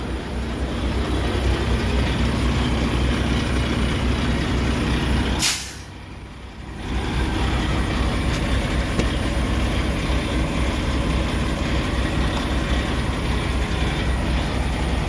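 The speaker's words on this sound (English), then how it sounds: "There's the generator." Generator running on a White Volvo truck, a steady loud broadband drone that dips briefly under a sharp hiss burst before settling back to a constant roar.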